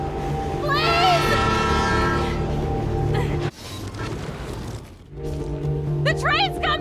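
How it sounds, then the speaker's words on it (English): Approaching train in the video game Life is Strange Remastered, a loud rumble with a horn-like tone under overlapping game voices and an urgent shout, briefly dropping before swelling again near the end. "The train's coming!"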